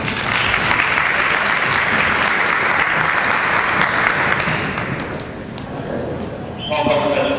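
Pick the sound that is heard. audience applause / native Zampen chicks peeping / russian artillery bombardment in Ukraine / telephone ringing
audience applause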